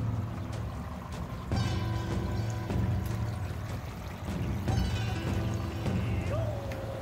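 Water flowing out of a filter into an aquaponics grow bed, a quiet steady pour and trickle with splashy surges, fairly close and faint overall.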